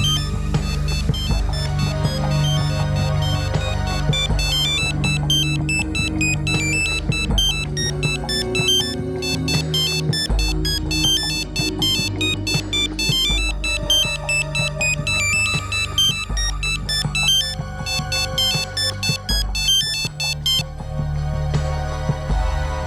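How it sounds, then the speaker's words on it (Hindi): A mobile phone rings with a continuous melodic ringtone during a family drama scene, playing loud and steady throughout with no talking over it. "मोबाइल की आवाज है"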